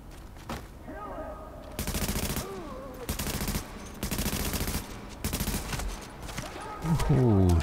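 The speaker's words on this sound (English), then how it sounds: "Shooting not so good there." Bursts of automatic gunfire from Tom Clancy's The Division, several loud broadband volleys in quick succession across the clip, with game voices and effects faintly underneath.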